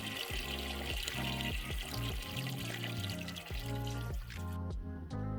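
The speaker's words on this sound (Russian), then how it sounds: "берем 10 литров чистой воды, не кипяченой, можно очищенной" Clean spring water pours for cabbage brine, a close, continuous gurgling stream with a rhythmic glugging pulse, as from a bottle being emptied.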